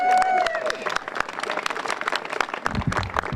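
A crowd at an immigration day of action rally in Denver claps for themselves, scattered sharp claps over a busy crowd murmur and cheering, loud and close throughout.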